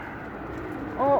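A pigeon coos briefly near the end, close by inside a coop, over a low background murmur.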